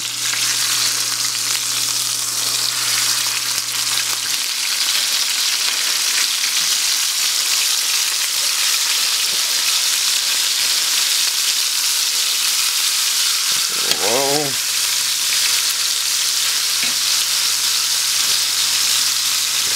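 Chopped steaks sizzle steadily in a large 13-inch frying pan, a continuous loud frying hiss throughout, with a brief scrape and clatter partway through as the steaks are turned.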